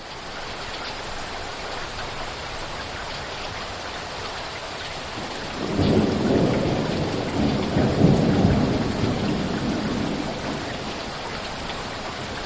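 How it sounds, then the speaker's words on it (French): A heavy thunderstorm pours steady, dense rain, then a deep rumble of thunder rolls in near the middle and slowly fades under the continuing downpour. "Une nuit, il y eut une grande tempête."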